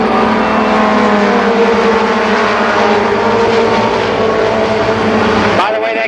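Mini stock race cars roar around Columbus Motor Speedway in a loud, continuous pack of engine noise, with a race announcer talking over it throughout.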